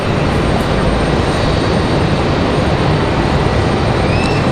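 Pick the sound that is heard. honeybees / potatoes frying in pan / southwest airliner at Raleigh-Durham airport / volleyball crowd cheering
southwest airliner at Raleigh-Durham airport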